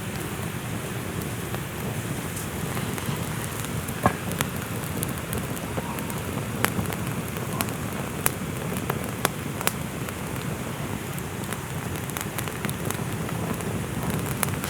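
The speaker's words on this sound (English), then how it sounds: "It's still raining." Steady rain falls through a wild rainstorm at a bushcraft camp in the forest, a dense even hiss with scattered sharp drops and crackles across the whole stretch, no voices.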